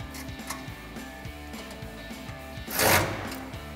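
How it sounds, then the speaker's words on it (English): A 13 mm socket wrench ratchets as exhaust bolts are tightened on a 2021-2023 Ford F-150 Corsa dual exhaust, with a steady rhythmic clicking up close and a brief louder scrape near the end. "we can use a 13 millimeter socket and 13 millimeter wrench to tighten those down"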